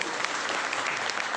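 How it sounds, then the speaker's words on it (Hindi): An audience at a business gathering gives a sustained round of applause, a dense, even wash of many hands clapping throughout with no break, moderately loud and without talk. "तो उनके लिए जबरदस्त तालियां"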